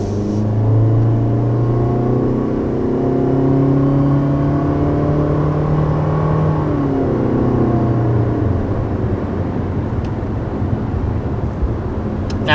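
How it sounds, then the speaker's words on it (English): A 2020 Toyota C-HR with a continuously variable transmission revs up under acceleration, a loud, close, continuous drone that swells and dips smoothly, with no voices. "this of course has a continuously variable transmission"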